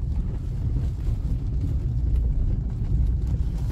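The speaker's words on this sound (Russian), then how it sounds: "мы прям по неровной дороге едем. По гравийной. Дорога здесь очень неровная." Inside a Lada Granta FL car driving on a rough gravel road, a steady low rumble of tyres and road noise fills the cabin, with faint bumps and no talking.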